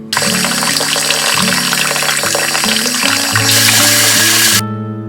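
Fresh-picked wild blackberries gently washed in water, with continuous splashing and running water close by and a louder gush near the end before it stops.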